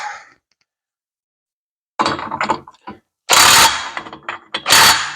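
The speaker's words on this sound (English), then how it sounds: "That Snap-on electric impact's a nice unit." A Snap-on electric impact wrench tightens a generator rotor held from the back side, giving a few loud, close bursts of rattling hammering after a short pause, with brief clicks between them.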